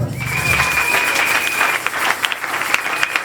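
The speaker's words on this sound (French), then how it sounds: "Acclamez pour Jésus." A church congregation at a Sunday worship service breaks into loud, sustained applause, a dense crowd clapping for a few seconds with a high whistle-like tone over the start.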